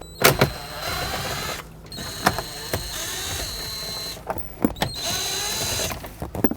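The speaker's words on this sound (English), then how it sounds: "There are 7mm screws in there. Let's remove all 3 of them." A power driver backs out three 7mm screws from the plastic steering column cover of a 2007-2009 Saturn Aura, giving short whirring bursts separated by pauses, close and fairly loud.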